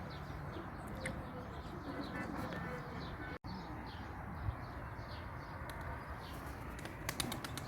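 A turtle dove coos faintly in an outdoor setting among pigeons, soft repeated calls over a steady background hiss with a few brief chirps, distant and low in level.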